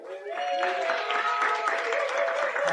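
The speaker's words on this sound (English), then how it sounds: "Give you everybody a round of applause real quick" Audience applause and cheering in a live comedy club crowd, a loud dense wash of clapping that swells quickly and holds steady, with voices shouting through it.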